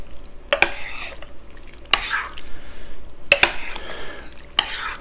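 A spoon stirs hunter's stew with peas in a pot, sharp metallic clinks against the side at irregular intervals amid soft sloshing and a low simmering sizzle, with no voices.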